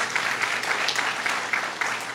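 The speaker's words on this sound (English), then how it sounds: "tell him we gave him a round of applause anyway" An audience at a school awards event gives a round of applause, steady dense clapping throughout with no talk over it.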